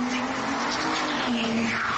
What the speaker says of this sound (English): He turns around at the sound of a screeching car speeding right into him.